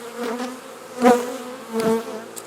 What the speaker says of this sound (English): I'll just shake the bees into here